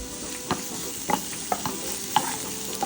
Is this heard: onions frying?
yes